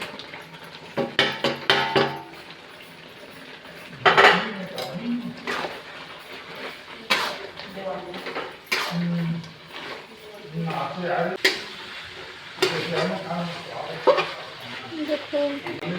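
Pieces of chicken for a home-style chicken curry are dropped into a metal pot and stirred, giving irregular clanks and scrapes of utensil on metal, with intermittent voices and background household noise around them.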